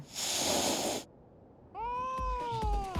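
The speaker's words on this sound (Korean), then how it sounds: "보스 고양이가 나타났죠" A large boss cat lets out a loud, drawn-out meow with a wavering pitch, following a burst of noise and a brief silence.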